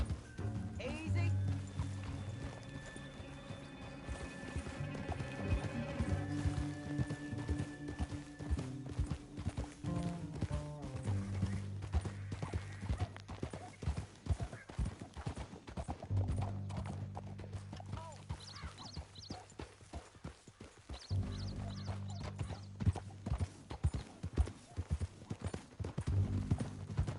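Horse hooves clip-clop rhythmically on a trail in the Western video game Red Dead Redemption 2, steady and fairly close, with occasional whinnies, music and characters talking over them.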